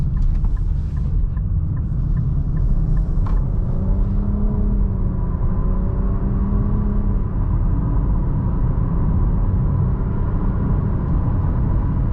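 A 2023 Nissan Rogue SUV drives on the road with a steady low cabin rumble and engine hum throughout. A few faint clicks come early on, and a brief rising engine tone surfaces midway.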